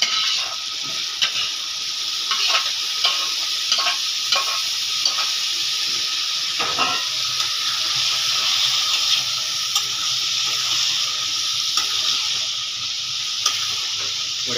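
Chana masala stirred and frying in a pot makes a steady loud sizzle and hiss, broken by repeated scraping and clinking strokes of the spoon against the metal.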